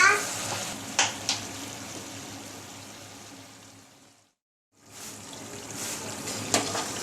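Potatoes and capsicum frying in oil in a pan, a soft continuous crackling sizzle with a few sharp clinks of a utensil, cutting out briefly to near silence before resuming.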